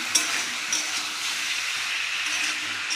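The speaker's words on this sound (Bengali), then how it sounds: "এইবার দেখো আমি সমস্ত মশলা আমার দেওয়া হয়ে গেলে এবার আমি কষতে থাকবো" Spices sizzle and hiss steadily in a hot pan while being sautéed for a mixed vegetable labra with prawns, a continuous close broadband frying sound with no voices.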